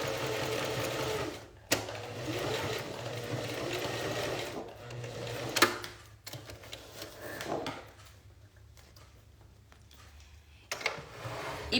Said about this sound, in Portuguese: eu fiz a costura reta, gente